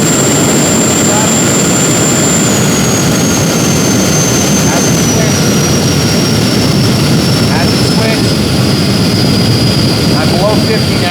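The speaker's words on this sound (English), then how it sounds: "So it's going to be loud. I'm going to go full throttle, and then I'm going to go to reverse thrust" An FMS F/A-18 Hornet 64mm electric ducted-fan RC jet runs at full throttle on the bench, a very loud, close, continuous high-pitched whine and roar whose tone sags slightly over time, with a voice faintly underneath.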